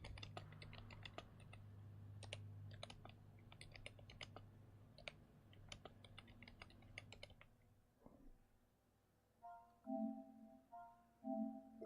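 Rapid, uneven clicking of a computer keyboard being typed on steadily for about eight seconds during a motorsport gaming livestream, then stopping, followed by a few soft electronic beeps.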